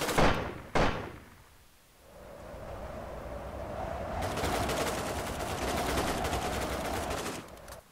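Gunfire in a multiplayer shooter video game: two sharp shots crack at the start, and after a lull a sustained rattling burst of fire continues to the end.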